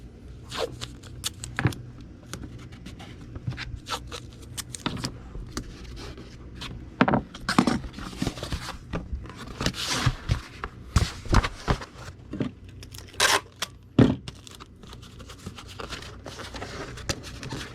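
Packing tape is pulled and pressed down over a Gemini mailer being readied for shipping, giving scattered ripping and crinkling bursts with soft handling thumps, close and intermittent, with no voices.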